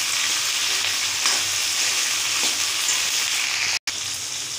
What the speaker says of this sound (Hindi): थोड़ा हरी मिर्च को हम फ्राई कर लेंगे